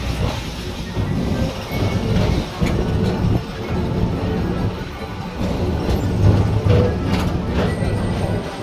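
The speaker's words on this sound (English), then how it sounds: "Ah, the people mover." The PeopleMover ride in Tomorrowland at Magic Kingdom gives a steady loud rolling rumble with faint clattering throughout, heard from on board.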